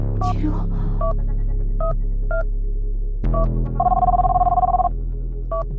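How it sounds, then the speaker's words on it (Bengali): In an audio drama, a phone call is placed: short tones sound like digits being dialled, then a long ringback tone follows over a low steady hum. The tones are clear and close, and nobody speaks. "ঝর্ণা, ঝর্ণাকে ফোন দিতে হবে।"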